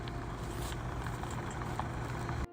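A car idles with a steady, even engine hum and faint rattle that holds unchanged, then stops abruptly.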